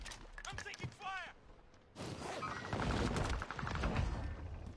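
Bursts of automatic gunfire from the video game Apex Legends, rapid crackling volleys with thuds, loud and continuous through the second half after a short pause, with voice chat talk over the shots.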